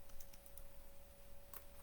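Keys click on an external computer keyboard in a few quick, sparse taps, faint and close, over a steady electronic hum with no talking.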